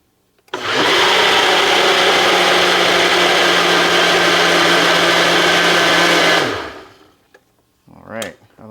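A blender whirs loud and close for about six seconds as it mixes beet juice with honey, then winds down to a stop, followed by a brief voice.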